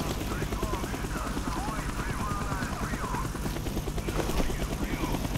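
A helicopter's rotor throbs steadily through a noisy Call of Duty: Black Ops campaign soundtrack, with gunfire-like crackles and voices mixed in.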